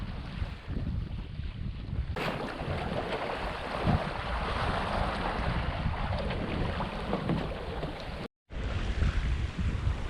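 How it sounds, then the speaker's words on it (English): A steady roar of tide rips churning near shoals at night in the Round Shoal Channel, heard from a sailboat underway, with broad continuous water noise and wind buffeting the microphone, no talk. "I don't know if you can hear that roar. Those are tide rips"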